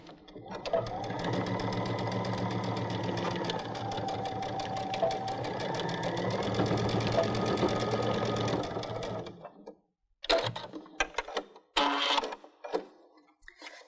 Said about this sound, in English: I just need to stitch them into place